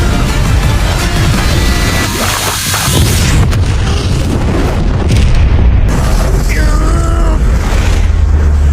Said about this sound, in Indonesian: tabung gas yang bocor menyebabkan ledakan